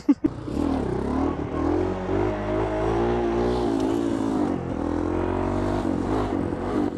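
Motorcycle engine on a dusty dirt track, droning loud and close with wavering pitch as it revs through wheelies, after a sharp knock at the start.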